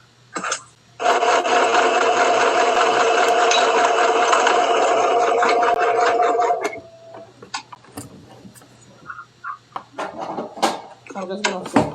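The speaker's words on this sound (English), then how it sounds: "I'm just going to sew it down." A sewing machine stitches the edge of a fabric wallet in one steady, loud run of about six seconds, then stops, followed by faint clicks and handling noises.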